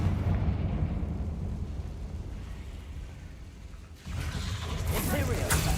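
A Confringo fire spell blasts off in the Hogwarts Legacy video game, a loud, broad explosive burst that hits suddenly partway through and stays roaring to the end over a low rumbling game backdrop.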